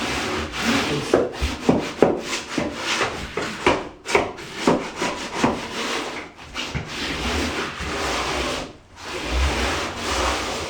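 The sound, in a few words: wooden trowel working mortar into tile inset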